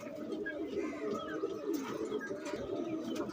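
Pigeons coo softly and repeatedly nearby, a low, rolling warble that runs throughout with a faint murmur of other birds in the background.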